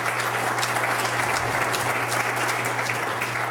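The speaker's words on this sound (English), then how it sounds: "Can we give our panelists an applause?" Audience applause for panelists at a road preservation forum, a steady continuous wash of many hands clapping throughout, with a low hum underneath.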